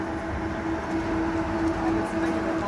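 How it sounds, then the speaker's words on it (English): A train rumbles at an Amtrak station, with a steady low drone and a sustained tonal hum, close and continuous for a few seconds. "I just wanted to show y'all the train station"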